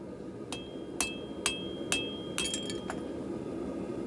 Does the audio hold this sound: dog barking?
no